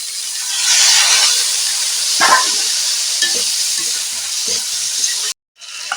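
Water splashes into hot oil with chilli and turmeric spices in a pan, producing a loud, steady sizzle and hiss with some stirring scrapes, ending abruptly.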